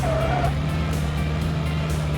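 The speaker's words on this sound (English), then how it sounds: "the engine just doesn't have very much power" Engine of a car in an indie driving video game, weak and underpowered, droning steadily with a low hum and a brief rising whine at the start, continuous throughout without talk.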